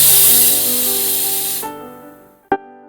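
A pressure cooker on an induction cooker lets off a loud sustained hissing whistle of escaping steam that cuts off abruptly, followed by a brief fading tone and a sharp metallic clank.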